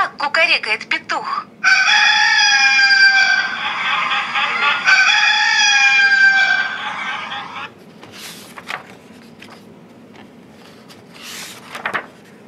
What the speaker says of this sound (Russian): Кукарекает петух.